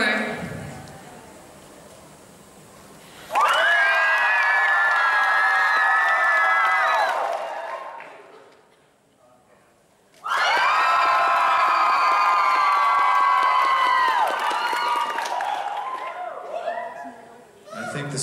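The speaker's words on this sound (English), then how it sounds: "I think the screeching fangirls have it." A convention crowd of screeching fangirls erupts in two long bursts of high-pitched shrieking and cheering, loud and sustained for several seconds each, with quieter talk in between.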